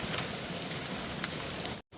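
Strong wind blows outdoors during a mushroom-foraging trip, a steady, loud, rushing roar that fills the whole stretch and then cuts out briefly near the end.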